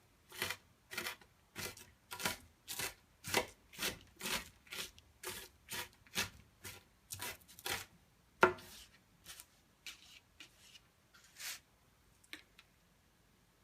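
A knife chops vegetables on a cutting board in a steady run of about fifteen evenly spaced, close, crisp strikes, followed by a few scattered softer taps and scrapes.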